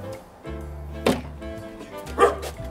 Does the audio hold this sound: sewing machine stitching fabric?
no